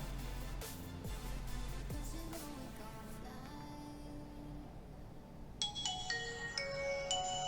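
A quiet electronic ringtone plays from a refurbished Nokia 6500s phone speaker, with a short melodic tone pattern that brightens into higher chiming notes toward the end.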